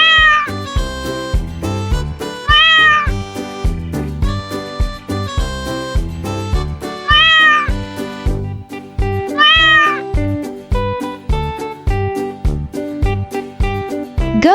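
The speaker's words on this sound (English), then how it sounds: "Cat makes the sound" Cat meowing repeatedly, four clear drawn-out meows spaced evenly over a steady musical backing.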